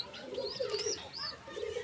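Domestic pigeons coo softly nearby in a few repeated low, rolling calls, with faint chirps in the background.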